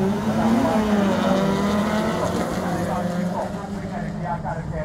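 Several folkrace cars in the Kardaanikunkku 2015 A-final accelerate off the start together, a loud dense chorus of rising engine revs close by and fading slightly as they pull away, with no speech.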